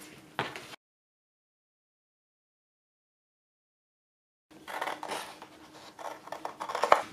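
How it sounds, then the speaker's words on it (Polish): Scissors cutting a paper circle, a quiet series of close scratchy snips at the start and again after a gap of silence. "I teraz wycinam koło."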